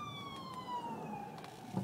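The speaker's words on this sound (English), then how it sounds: "there's an ambulance passing" An ambulance siren wails nearby, its pitch sliding downward as the vehicle passes, with road noise underneath.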